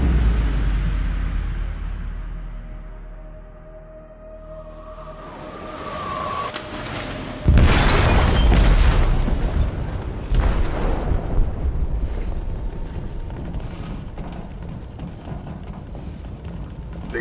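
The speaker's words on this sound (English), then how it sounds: "They detonated an explosive in the hold." A massive explosion inside a ship's hold in Detroit: a rising rumble gives way to a sudden loud blast, followed by sustained roaring debris and crashing.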